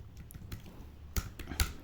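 Quiet, sparse clicks from a computer keyboard as code is typed, a few distinct keystrokes over faint room noise, with no speech.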